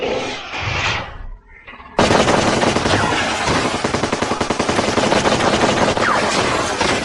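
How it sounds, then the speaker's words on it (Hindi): Gunfire from an action movie, a sustained rapid burst of automatic shots emptying a full load of bullets; after a brief lull it erupts loud and continuous for about five seconds with dense, rattling repeated reports. "उसने तो सारी गोलियों का चूरन बना दिया"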